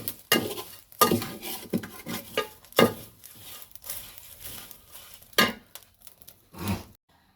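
Powders and leaves being stirred in a pan for a homemade herbal hair dye, with irregular scraping and clinking of a spoon against the pan and a faint sizzle, loud strokes separated by quieter pauses.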